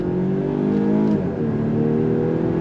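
A 2024 Volvo XC60 luxury AWD SUV accelerates hard on throttle, its engine note climbing steadily and briefly dipping as the ZF 8-speed automatic shifts, heard from inside the cabin for a few seconds without talk.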